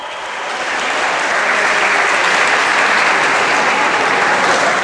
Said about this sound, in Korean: 아침부터 함성이 가득하다